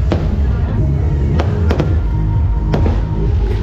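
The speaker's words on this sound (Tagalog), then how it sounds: "gisugdanan day ang fireworks display" New Year fireworks in Tagum City, Philippines, crack and boom repeatedly over a dense, roaring crowd noise, with several sharp bangs standing out amid continuous rumbling.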